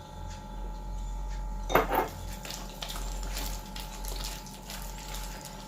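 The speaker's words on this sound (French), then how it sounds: "Je vais remélanger, bien mélanger." Whisking or stirring cake batter in a bowl, with soft scraping and clinks of utensil against the bowl, plus one louder clatter near the start. No one speaks.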